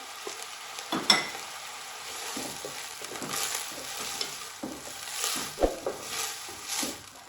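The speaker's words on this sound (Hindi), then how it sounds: "अब यहाँ पे गाजर और मटर साथ ही चिकन के डाल देंगे कि ये भी साथ ही गल जाएंगे।" Carrots, peas and chicken fry in hot oil for restaurant-style chicken fried rice, a steady close sizzle broken by a few louder stirring scrapes and clacks of a utensil in the pan.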